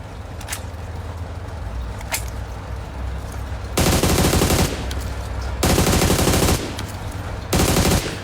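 Bursts of automatic gunfire from a weapon with a compensator and no ergonomic grip in the mobile battle royale game PUBG Mobile, three loud sustained volleys separated by short gaps, with faint distant single shots before them.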